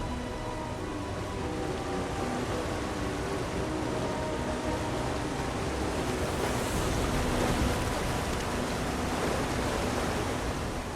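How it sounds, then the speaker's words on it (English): Steady rushing water of a waterfall inside a cave in The Elder Scrolls Online, a constant broadband roar that stays loud and unbroken throughout with no voices. "Behind the waterfall."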